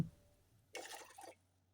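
Water is poured into a metal pan set over a gas flame. A short, quiet splash lasts about half a second before it fades to stillness.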